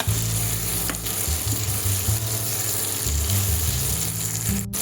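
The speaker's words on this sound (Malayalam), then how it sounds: "ഇനി നമ്മുടെ പുതിന, നമ്മുടെ മല്ലിയില, നല്ലപോലെ നമുക്ക് ഇളക്കി കൊടുക്കാം" Fresh mint and coriander leaves get stirred in a sizzling pan of green chicken chops, a steady loud fry with the scrape and shuffle of a spoon turning the mixture throughout.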